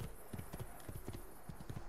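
Horse hooves clip-clopping in Assassin's Creed 2, a steady rhythmic run of close, distinct hoofbeats repeating at an even gait throughout.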